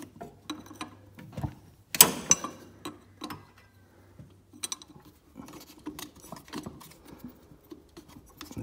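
A ratchet wrench with a 15 mm socket works the bolt that holds the belt on a pulley of a John Deere transaxle, giving quiet, uneven bursts of clicking with a louder metallic clank near the start.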